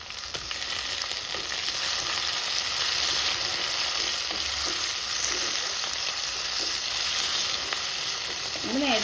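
Tomato and onion base fried in a pan while being stirred for a fish curry, with a steady loud sizzle and scraping stirs throughout and no talk.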